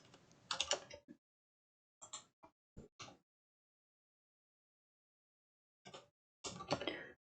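Bursts of computer keyboard typing, short clusters of crisp key clicks separated by long silent gaps, close and fairly quiet.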